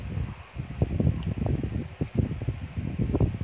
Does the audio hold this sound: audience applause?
no